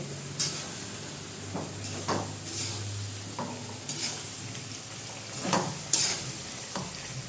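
Tomatoes, coriander and chilies sizzle as a tempering in hot oil for a brinjal dish, a steady low frying hiss with occasional stirring clacks and scrapes, fairly quiet and without talk.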